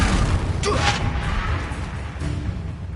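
A Confringo fire-spell blast in the Hogwarts Legacy video game, heard as a booming burst with a whooshing swell early on, over a dense, rumbling battle soundscape.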